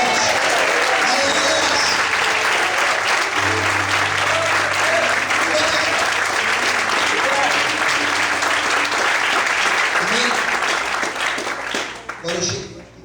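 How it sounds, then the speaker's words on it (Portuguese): A church congregation applauds loudly and steadily for about twelve seconds, a dense wash of clapping over low sustained tones, tapering off at the very end. "Quantos podem aplaudir ao Senhor bem forte?"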